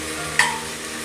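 Mint sautés in ghee mixed with coconut oil, a low steady sizzle interrupted by a single bright metallic clink of a utensil on the pan, close and with no talking.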